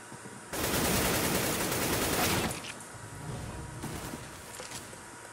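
A sustained burst of AK rifle fire in Counter-Strike, loud and continuous for about two seconds, followed by quieter scattered shots and distant in-game gunfire.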